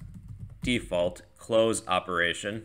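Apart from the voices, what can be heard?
typing on a computer keyboard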